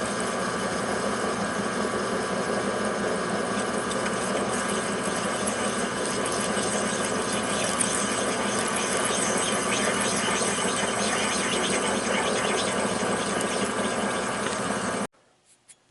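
A small lathe turns an intake part for a Mikuni PZ27 carburetor on a Kawasaki Bayou, giving a steady, loud high-pitched squeal with motor hum that runs evenly before cutting off abruptly near the end.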